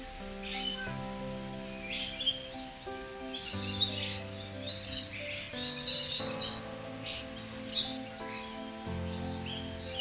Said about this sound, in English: Ang daming birds.